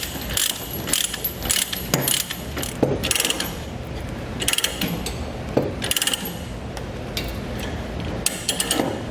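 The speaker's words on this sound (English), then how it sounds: "And then we can just start ratcheting." Titan chain ratchet-type load binder for 1/2 inch chain being cranked, a close series of sharp metallic ratchet clicks in rhythmic bursts with brief pauses between strokes, no voices.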